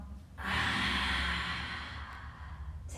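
A long, soft exhale through the nose and mouth during a family yoga session, close and breathy, lasting a couple of seconds after a brief pause, with no talking.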